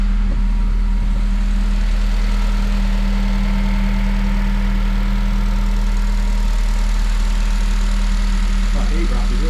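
A Honda Civic Type R FN2 engine idling through a Tegiwa 70mm exhaust with a 4-2-1 manifold, a loud, steady low drone with a constant hum and no revving, close by; a voice talks over it.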